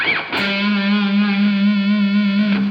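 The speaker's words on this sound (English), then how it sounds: "When you have your distortion, you know, you have more sustain." Electric guitar with heavy distortion holds one sustained, buzzing note for more than two seconds after a short pick attack, loud and close with rich harmonics and slight wavering.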